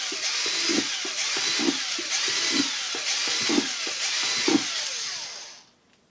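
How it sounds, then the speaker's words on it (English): A power drill whirs steadily, its motor pitch dipping in short repeated bursts as the bit bites into a plastic milk crate, then stops abruptly. "I need to drill a couple holes in it"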